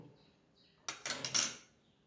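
Egg vapa curry is stirred in a pan with raw mustard oil: a short cluster of metallic scrapes and clinks from a utensil against the pan after a quiet lead-in, close and fairly soft, with no talk.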